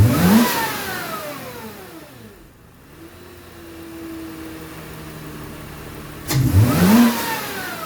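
A supercharged Subaru Outback H6 engine revs sharply up and back down near the start, settles to a lower idle hum, then blips up again at the end.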